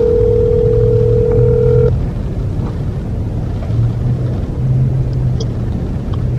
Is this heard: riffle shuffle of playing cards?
no